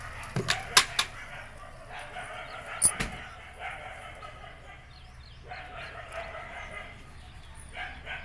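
Several sharp dog barks in quick succession, then scattered barking further off, with a voice heard faintly at times.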